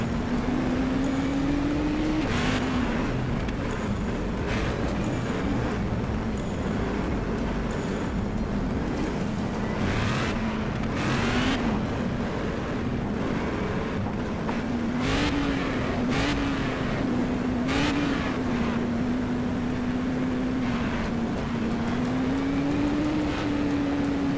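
Race cars in a racing video game roll forward together on a rolling start, a steady loud engine drone with a wavering pitch and brief revving surges throughout, with no talk.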